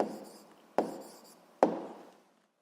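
A pen scratches on paper while an answer is written by hand: three close, crisp strokes, each fading out, in a quiet room.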